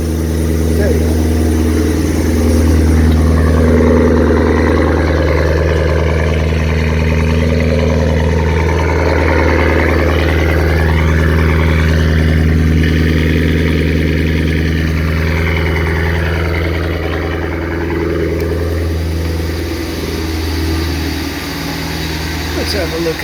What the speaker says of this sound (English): That supercharger sounds nice, don't it?